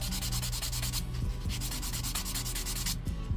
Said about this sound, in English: and just kind of sand it off